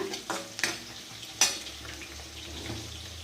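Fish frying in a pan for a simple fish curry, a soft sizzle broken by a few sharp clanks of a utensil against the pan, with no talking.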